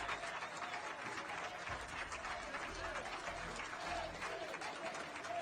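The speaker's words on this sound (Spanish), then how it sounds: "mire la ovación con la que fue recibida en el Parlamento español" Ovation in the Spanish Parliament, a sustained crowd of clapping with voices mixed in, fairly distant and even in level, with speech-like sound running underneath.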